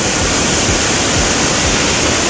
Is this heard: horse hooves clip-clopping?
no